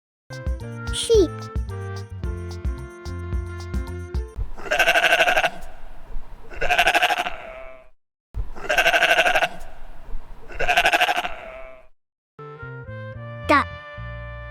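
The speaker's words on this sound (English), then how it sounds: "Sheep." Sheep bleating in four loud, wavering calls spaced about two seconds apart, set between bright children's-song music with chimes at the start and end.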